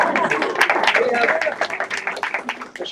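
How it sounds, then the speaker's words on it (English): A synagogue congregation applauds during a Friday evening Shabbat service at an ordination weekend, a dense burst of clapping that thins out toward the end, with voices mixed in. "We applaud."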